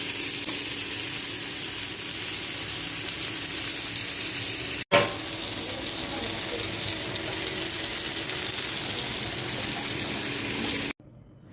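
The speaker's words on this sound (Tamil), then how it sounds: "இப்போ இதை நான் ஃப்ரை பண்ண போகிறேன்." Fish frying in a pan gives a steady, dense sizzle that runs almost without pause, dips for a moment partway through, then cuts off near the end.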